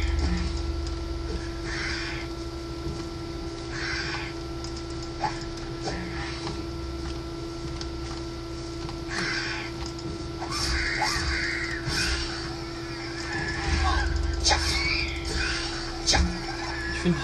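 Crows caw repeatedly in the fantasy game Risen, scattered harsh calls at moderate distance over a steady humming ambient drone.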